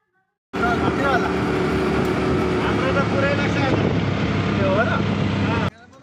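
Steady engine drone and wind rumble from an auto rickshaw ride on a hilly road toward Bhedetar, Dhankuta, Nepal, starting abruptly and running continuously, with faint chirping tones over the noise.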